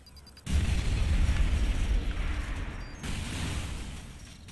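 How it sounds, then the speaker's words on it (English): A grenade blast in the open-world game Watch Dogs: Bad Blood erupts suddenly into a loud, broadband boom, then rumbles and rolls off over a few seconds with a second swell of debris noise. "That's a grenade."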